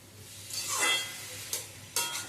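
Vegetables sautéed with ground spices and a splash of water in a pan for a chorchori, giving a close hiss and sizzle that swells, then two sharp stir scrapes near the end.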